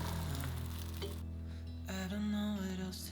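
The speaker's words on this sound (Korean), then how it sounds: "방울토마토와 시금치, 버섯 볶아서 계란과 위에 치즈 올려 만든 프리타타예요." Cherry tomatoes, spinach and mushrooms frying in a pot for a frittata, a faint, steady sizzle that runs throughout with a light stirring clatter and soft music in the background.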